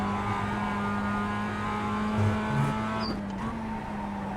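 A Mazda MX-5 Cup race car engine drones steadily at a fairly constant pitch in iRacing, with brief tire scrub and small shifts in tone near the end, and no talk.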